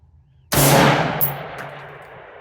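A single loud rifle report cracks at long range, followed by a ringing metallic clang from a distant steel target that decays over about two seconds, with no talk.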